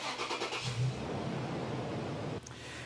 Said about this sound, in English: we're going to start the vehicle up